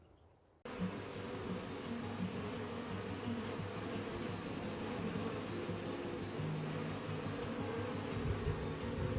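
A honey bee colony hums at its hive with a steady, close, continuous buzzing that starts abruptly and stays level throughout, with no voices.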